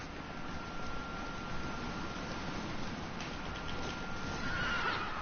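A horse in the video game The Witcher 3 whinnies and hooves pound in a steady gallop over constant hissing noise, fairly faint and distant-sounding, with no one talking.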